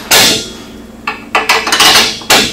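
Metal parts clank and scrape close up as a RacerTech bumper on a 2015 900S is slid into place, with a few sharp knocks and rattling bolt contacts.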